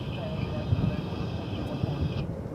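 A United Boeing 737-800 MAX airliner landing at DFW, a steady broadband roar of engine and airflow that holds at a moderate distance with little change in level before easing slightly toward the end.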